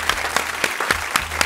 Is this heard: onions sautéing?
no